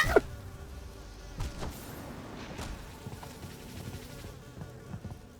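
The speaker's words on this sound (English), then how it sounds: "I pissed off so many bees again!" Angry bees in Hollow Knight give a steady buzzing drone that lasts the whole stretch. The buzz runs under game effects and a few sharp hits, with no talking.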